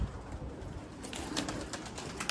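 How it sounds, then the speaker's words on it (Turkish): Pigeon or dove cooing near a bird flying about, soft repeated coos over a steady background hiss, no talk. "Arkadaşlar kuş burada uçuyor."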